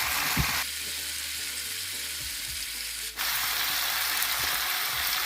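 Kashmiri red chili powder frying in hot oil, a steady bright hiss of sizzling that holds throughout with small stirring clicks, close by.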